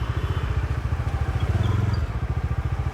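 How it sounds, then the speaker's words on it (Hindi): A Bajaj Dominar 400 motorcycle being ridden toward a highway ring road, its engine throbbing in a steady, close, low, rapid pulse for the whole stretch, with no talk over it. "सो जैसे जैसे मैं इस बाइक को राइड कर रहा हूँ"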